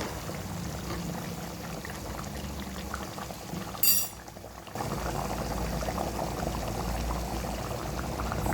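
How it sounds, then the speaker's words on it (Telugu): A pot of chicken curry bubbles steadily on the stove, a continuous close simmering boil that breaks off briefly for a second before resuming at full strength. "చూడండి ఎలా ఉడుకుతుంది."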